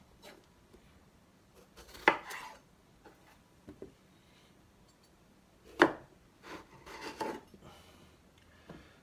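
A knife chopping eggplant into cubes on a board, a few sparse, soft cuts and thuds heard close by and fairly quiet, with irregular gaps between strokes.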